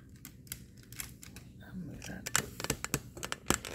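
Plastic parts of a rare 2010 golden limited edition Battle Ops Bumblebee toy folding back, a run of sharp clicks and snaps, quicker and louder toward the end, with a voice talking underneath.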